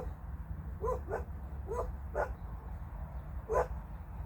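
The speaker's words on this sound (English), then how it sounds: "Excuse my dogs in the background." Several dogs bark in the background, about five short muffled woofs in loose succession, moderately distant over a low room rumble, with no speech.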